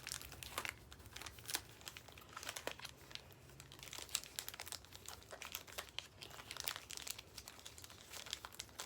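Pokémon booster card packs are torn open close up, with dense crinkling foil wrappers, sharp tearing bursts and handling noises that carry on steadily and quietly throughout.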